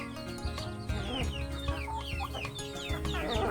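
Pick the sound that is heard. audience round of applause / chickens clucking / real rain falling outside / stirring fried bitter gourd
chickens clucking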